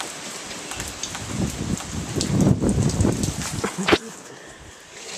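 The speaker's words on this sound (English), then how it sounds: "It's pouring rain and winds" Heavy rain pours down with gusting wind outdoors, a dense hiss that swells and eases, with a sharp knock partway through and a person talking over it.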